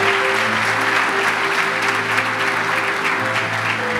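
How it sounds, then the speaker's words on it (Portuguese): Steady applause from a church congregation fills the space, loud and close, with a faint sustained organ or keyboard tone beneath the clapping throughout. "aplaudir a Jesus aí, não?"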